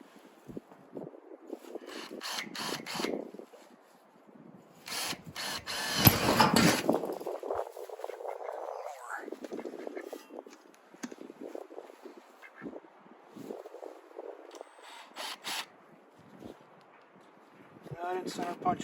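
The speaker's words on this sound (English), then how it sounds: "let's get these reliefs drilled now" A power drill bores relief holes into the corners of a thin panel ahead of jigsaw cuts while building a deck rain cover, with several bursts of whirring between pauses and someone talking over parts of it.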